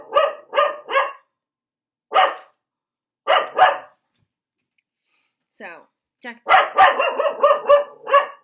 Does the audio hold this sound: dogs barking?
yes